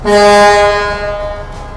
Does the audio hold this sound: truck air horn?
yes